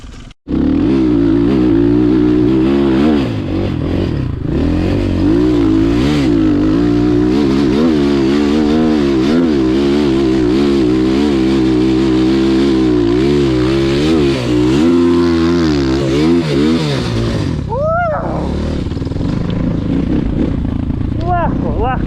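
A Rottor Bronx 300 Chinese enduro motorcycle engine held loudly at high revs, its wavering drone rising and dipping for about seventeen seconds before cutting out, followed by one brief final rev.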